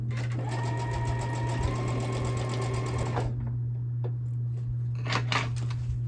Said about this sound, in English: let's get this first set of fabric strips sewn together